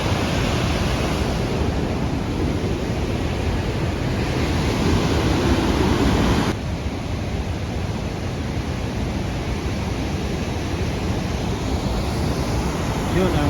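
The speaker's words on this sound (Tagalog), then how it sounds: "Yun ang San Juan Falls" A waterfall, San Juan Falls, roars in a steady broadband rush of falling water, loud and continuous for the whole stretch, mixed with some wind on the microphone.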